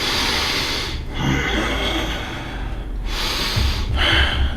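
A person imitates heavy breathing, drawing in loud, hissing breaths and exhaling with snorting gasps, close and alone.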